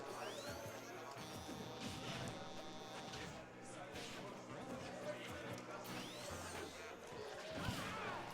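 Forward smash attack landing in a Super Smash Bros match, a hard-hitting crash amid busy game effects and whooshes, heard under tournament commentary voices.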